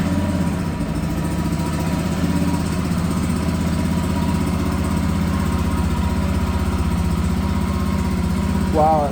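A newly assembled Lifan KPM200 motorcycle engine running at a steady, loud idle up close, with an even low throb that holds throughout and a brief rise near the end.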